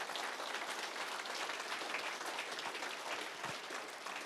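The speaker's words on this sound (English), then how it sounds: "Please, round of applause for the artwork." An audience gives a round of applause for local artists' work on display, a dense, even patter of many hands clapping for several seconds, sounding soft and distant.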